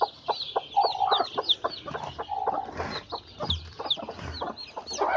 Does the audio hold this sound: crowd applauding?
no